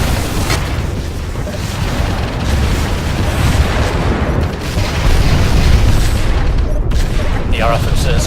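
A starship explodes under fire in the space combat game Freespace Blue: War in Heaven, loud rumbling booms and bursts rolling on continuously, with voices speaking amid the blasts.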